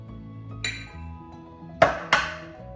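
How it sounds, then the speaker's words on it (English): Eggs being cracked onto a plate during a kitchen cooking session, heard as a faint tap followed by two sharp close clinks against the plate, with quiet gaps between. "So we're going to crack the 12 eggs now without trying to make a big mess"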